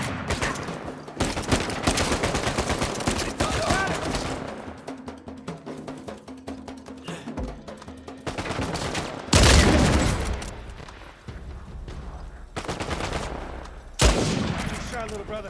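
Rapid gunfire from the video game Uncharted 4, dense bursts of shots crackling almost without pause, with a few heavier blasts standing out near the end, loud and close.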